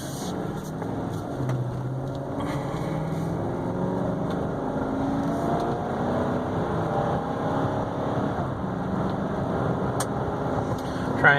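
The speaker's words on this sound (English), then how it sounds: "Trying to accelerate a little hard here. I don't have it floored by any means." A 2015 Chevy Suburban LT 4x4 accelerating moderately hard, its engine a steady, even drone heard from inside the cabin, with no talk over it.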